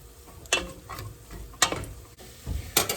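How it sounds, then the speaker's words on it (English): Onion and garlic sauteing in a soup pot, with a few sharp stirring scrapes at a steady pace over a quiet sizzling background and no talking. "And that includes the onion and the garlic. And we're just going to be sauteing everything in there."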